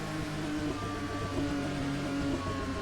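A steady engine drone from an Assetto Corsa Rally car as the revs slowly fall, continuous and even throughout with no talking.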